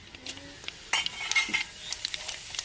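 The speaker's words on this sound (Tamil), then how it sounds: "எண்ணெய் சூடாச்சுங்க கடுகு போட்டுக்கிறோம் ரெண்டு சின்ன சீரகம் போட்டுக்கிறோம்" Mustard seeds and cumin dropped into hot oil in a pan for a Tamil curd curry, giving a brief close crackle and sizzle with a few light metallic clinks.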